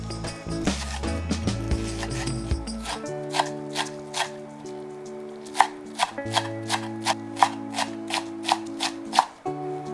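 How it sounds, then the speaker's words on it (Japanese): A kitchen knife finely minces Japanese long green onion (naganegi) on a cutting board, first in a rapid flurry of chops, then settling into a steady run of crisp, evenly spaced taps up close, with a low tonal hum underneath. "長ネギはみじん切りにしていきます"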